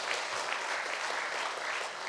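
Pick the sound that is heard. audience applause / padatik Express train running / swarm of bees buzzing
audience applause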